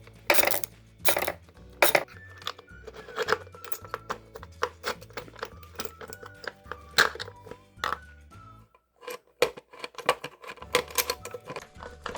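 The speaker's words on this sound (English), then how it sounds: "Use a wrench extension with a short socket to remove the bolts." A wrench with a socket extension clicks and ratchets as it works bolts out of a Tohatsu/Mercury outboard carburetor, giving sharp metallic ticks and clunks in irregular bursts with a brief pause near the end.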